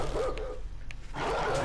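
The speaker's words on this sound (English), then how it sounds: "Dog." A dog barks a few times in the 7 Days to Die survival game. The barks are fairly close and come in short bursts over a steady game background.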